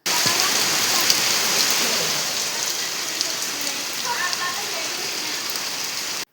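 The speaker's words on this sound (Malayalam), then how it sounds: "നല്ല മഴയും പെയ്യുന്നുണ്ട് കേട്ടോ" Heavy rain pours steadily outside a house, a dense continuous hiss and patter throughout, with faint bird chirps and a distant voice briefly audible beneath it.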